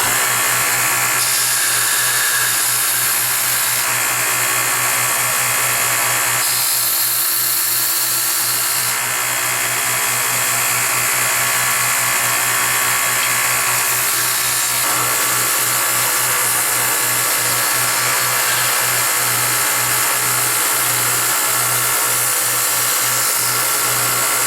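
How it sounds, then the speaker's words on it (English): Steady machine whine of a belt grinder working a full tang knife blade, a continuous loud hum with a low drone and bright hiss that shifts slightly as the steel is pressed and lifted, running alone without talk. "we will start grinding on this thing"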